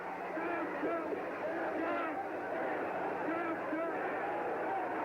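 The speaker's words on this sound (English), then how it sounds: "And the crowd is berserk with excitement." A big crowd at the Ali versus Foreman heavyweight fight roars in a steady, dense wash of cheering and babble, distant and continuous beneath a commentator's voice.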